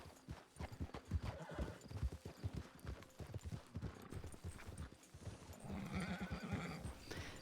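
Horse hooves clip-clop in the RedM video game, a close, rapid, uneven run of hoof beats, and near the end a horse whinnies.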